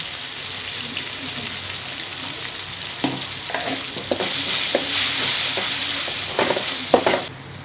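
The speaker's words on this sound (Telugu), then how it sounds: "ఇప్పుడు మనం దీంట్లో కరపాకుని వేసేద్దామండి కలిపేయండి" Curry leaves hit hot oil and get stirred for a Telugu chana dal onion curry. There is a steady loud sizzle throughout, with sharp spoon scrapes and clicks growing busier in the second half, and no talking.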